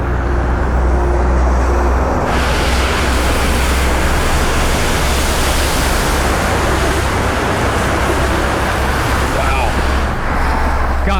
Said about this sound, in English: We got a car coming really fast here.